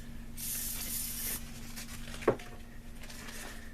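A can of WD-40 sprays onto wet-dry sandpaper in one steady hiss lasting about a second, close and fairly loud over a quiet room, followed by a short knock.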